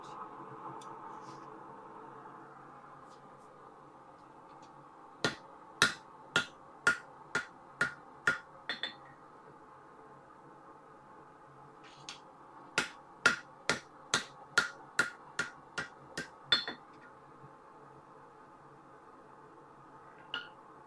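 Hammer blows on hot steel while forging an axe drift, in two quick bursts of about eight to ten sharp ringing strikes each, separated by a pause, over a steady low background hum.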